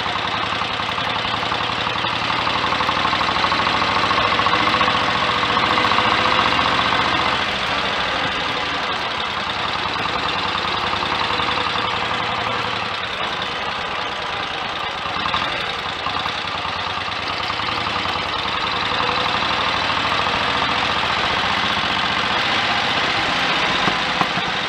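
A Royal Enfield 1000cc Model K motorcycle engine runs steadily under way on the road, a loud continuous drone with slight shifts in pitch as the rider changes gears, no voices over it.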